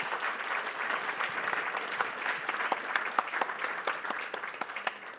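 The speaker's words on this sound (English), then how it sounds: "You've already applauded." Audience at a passenger rail summit applauding a transportation equity panel, steady dense clapping from a roomful of people, fairly even and sustained throughout.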